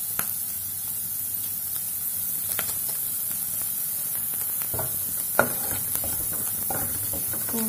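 Fried Maggi noodles being stirred with their packet masala in a pan: a steady, hissing sizzle throughout, with occasional soft scrapes and taps of a spoon, and no talking.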